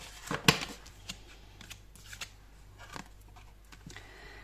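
Tarot cards are shuffled and drawn, giving a sharp riffle of card snaps followed by soft, faint slides and taps of cards handled close by.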